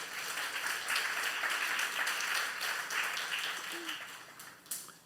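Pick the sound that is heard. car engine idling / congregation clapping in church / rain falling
congregation clapping in church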